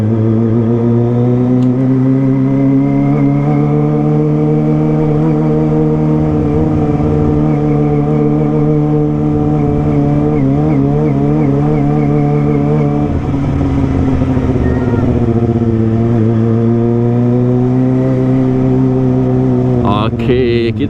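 A Kawasaki ZX25R motorcycle with a loud aftermarket exhaust revs and runs steadily through a narrow residential alley, its high-pitched multi-cylinder whine held close and continuous with throttle blips, rising briefly at the very end.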